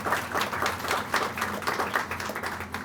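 Audience applause at a library grand opening, dense steady clapping from a crowd that holds at an even level throughout, with no talk over it.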